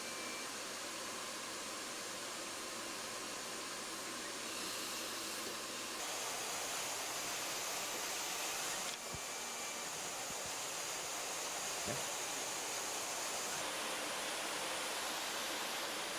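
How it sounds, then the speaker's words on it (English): An ordinary house vacuum pulling air through the slots of a linear book scanner, a steady loud broadband rush whose tone shifts slightly partway through, with a few faint clicks and no talk. "in this case just a regular house vacuum that's connected to those slots. It's sucking air"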